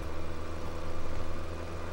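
A steady, rumbling engine drone with a regular pulsing throb, running continuously at a constant pace, close and fairly loud with no voices.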